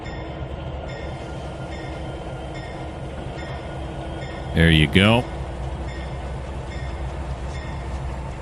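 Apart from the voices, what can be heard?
SD80 locomotive train moving in Trainz 2019 video game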